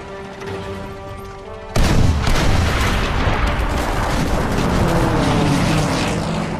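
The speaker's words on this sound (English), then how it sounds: "Now our bombers can hit their targets." Bombs dropped by bomber aircraft in Call of Duty WW2 burst into a sudden loud, booming explosion after a steady droning lead-in, then a long, rumbling roar of blasts and debris that stays heavy and close to the end.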